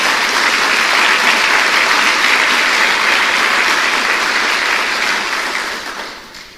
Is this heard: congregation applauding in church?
yes